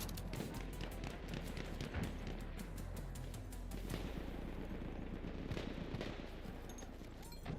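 Rapid gunfire crackles through a Battlefield 1 firefight, sharp shots landing in quick irregular clusters over a dense, continuous wash of battle noise.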